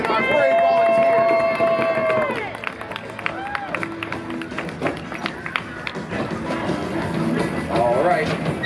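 A fair crowd cheering and clapping for a BMX rider at an outdoor trick show, a busy wash of applause and shouts under an announcer's amplified voice, with whistles and scattered whoops.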